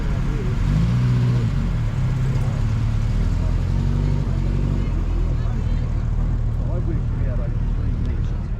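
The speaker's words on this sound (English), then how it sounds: "First to arrive, two red cars. I don't know if they planned it, but a Stag and a Capri." Classic Triumph Stag and Ford Capri cars arrive at a car show in Napier, New Zealand, a loud continuous low engine rumble with some rising revs, while a voice talks over it.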